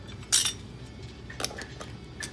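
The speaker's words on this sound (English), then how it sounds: "But you want to put your lid on there." A metal canning lid clinks onto a jar of fresh chicken in a home kitchen, one sharp close clink followed by a couple of lighter metallic taps.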